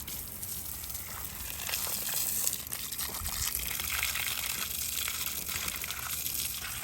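Water sprays and splashes steadily onto a Bobcat skid steer wheel being rinsed after a soak and scrub, a continuous close rushing hiss with no talking.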